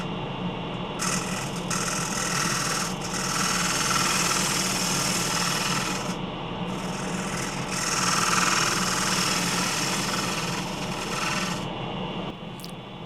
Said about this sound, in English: back to the scraper to remove more wood from the bottom